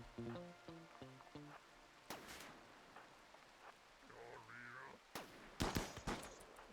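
Colonists exchange gunfire in RimWorld: a few sharp, quiet shots ring out, then a short cluster of louder cracks near the end, with musical tones and soft sounds in between.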